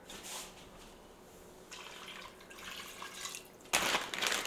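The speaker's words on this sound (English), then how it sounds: "so I'm just going to add some water." Water pours from a tap into a freezer meal of chicken being prepared, a soft trickling splash that builds and grows louder near the end, heard alone without talk.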